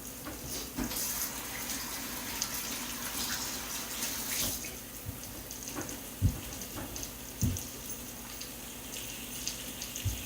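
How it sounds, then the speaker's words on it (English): Tap water runs steadily into a sink during handwashing in a home kitchen, a soft continuous splashing hiss broken by a few small knocks and clinks, with no one talking. "Wash our hands."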